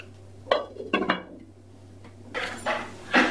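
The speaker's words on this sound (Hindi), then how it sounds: "हम इसे ढक देंगे।" A metal lid is set onto a pot of aloo matar curry with a few clinks and knocks, followed by a couple of louder metallic clatters near the end, close by and without speech.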